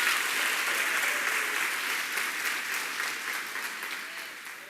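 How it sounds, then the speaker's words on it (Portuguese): Church congregation applause during a Holy Communion service, a dense, sustained roar of many hands clapping in a reverberant hall that slowly fades over a few seconds. "Quantos acreditam vão aplaudindo Ele."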